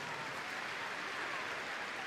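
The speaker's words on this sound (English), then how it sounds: "Big round of applause for Cassine, please." Steady applause from a large indoor audience at the Crufts dog show greets a lowland search and rescue dog, a continuous wash of clapping with no breaks through the short stretch.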